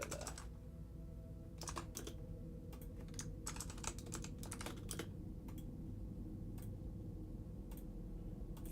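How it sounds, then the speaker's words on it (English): Rapid clicking of a computer keyboard being typed on by a livestreamer, in uneven bursts and pauses over a steady low hum, close and clear with no talking. "Forgive me, guys, I am typing."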